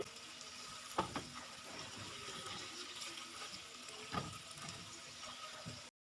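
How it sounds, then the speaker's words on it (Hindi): Roughly half a cup of water pours into a pan of frying chicken and potato masala, a steady rushing hiss and sizzle with a couple of louder splashes, continuing for several seconds before cutting off. "यहाँ पे हम थोड़ा सा आधा कप के बराबर पानी शामिल कर रहे हैं"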